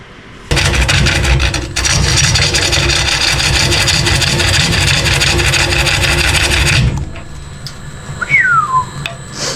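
Wood lathe roughing out a blank at around 389 RPM, a loud continuous broadband rasping scrape as the gouge digs in, running steadily for about six seconds with a brief dip, then cutting off into quieter shop noise.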